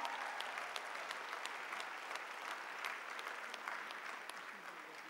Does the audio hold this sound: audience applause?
yes